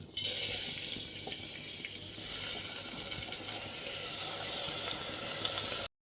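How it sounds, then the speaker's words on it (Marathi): Water streams steadily into a pressure cooker with a constant hissing splash, ending abruptly after several seconds. "आपण प्रमाणामध्ये पाणी टाकून घेणार आहोत"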